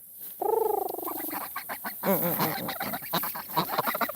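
A pet goose honking and cackling up close, a long drawn honk followed by a rapid run of harsh, chattering calls with other bird calls mixed in.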